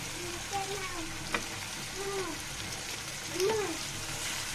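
Hard vegetables such as pointed gourd and potato frying in oil for a mixed vegetable dish, a continuous moderate sizzle with a few soft scraping stirs and a faint voice murmuring briefly in the background.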